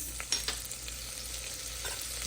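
Green chilies fry in a masala base in a pan, giving a soft, steady sizzle with a few light stirring taps, fairly quiet and without talk.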